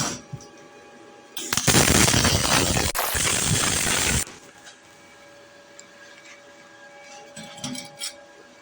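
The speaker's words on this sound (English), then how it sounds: "I got the aluminum spool gun dialed in pretty alright. It's making some good welds." ArcCaptain Mig 200 running an aluminum spool gun, a loud, crackling MIG arc that bursts on for under three seconds and then cuts off, leaving a quiet shop hum.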